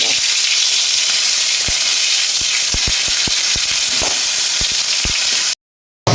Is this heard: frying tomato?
yes